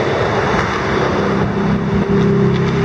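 Cars drive past on a street in Japan, a steady, close rumble of engines and tyres with a broad road hiss and no clear gaps between vehicles.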